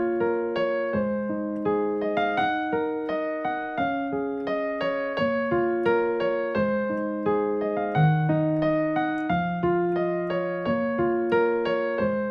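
Unhurried solo piano runs through the full chord loop of a song, a long even sequence of struck chords and melody notes that ring and overlap, close and clean with no speech.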